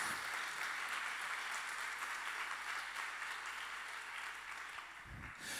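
A church congregation applauds, a faint, distant, even patter of many hands clapping that carries on steadily for several seconds before cutting off.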